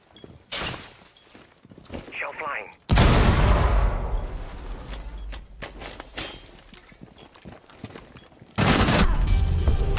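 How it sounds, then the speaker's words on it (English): Gunfire and heavy blasts from shooting Legion mines in a competitive Rainbow Six Siege match. A loud burst comes in the middle, with a sharp blast at the end and smaller shots and clatter between. "Going to have to hit some barbed wire, shoot some Legion mines."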